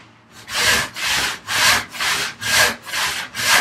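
A handsaw cuts through a wooden board in a workbench build, about seven even rasping strokes in steady rhythm, close and clear with no talk.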